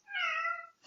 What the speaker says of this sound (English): This is Rosie the cat.